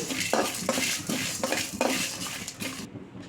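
Mustard seeds, cumin and dried red chillies roasting in a pan for tamarind-leaf pulihora, heard as close metallic scraping and clinking of a ladle against the pan in quick repeated strokes over a light sizzle, ending abruptly.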